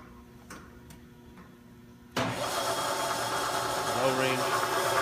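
A Bridgeport 3-axis CNC vertical mill spindle shifting into low gear: faint ticking at first, then a sudden rise into a steady loud mechanical whir and hum that holds to the end, close by.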